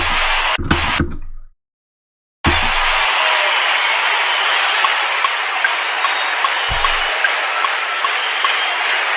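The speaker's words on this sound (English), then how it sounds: "Now where that first clap hits," Layered clap samples in a dance track at 128 BPM, loud bright claps landing in a regular repeating beat over a dense noisy layer, after a brief cut to silence and a couple of low thumps.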